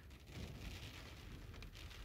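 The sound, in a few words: rain falling in Riyadh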